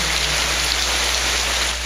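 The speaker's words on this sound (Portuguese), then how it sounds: "amanhecemos em Morrinhos com uma ótima surpresa: chuva." Steady rain falling in Morrinhos on a morning after a long dry spell, a dense continuous hiss of drops on surfaces, loud and close with no pauses.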